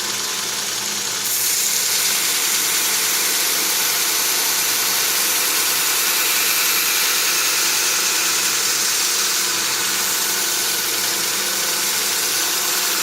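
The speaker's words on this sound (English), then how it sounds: "Grinds both sides at the same time." A double wheel knife grinder runs on a variable-speed drive and grinds both sides of a blade at once. It gives a steady mechanical drone with a low hum underneath, continuous and close throughout.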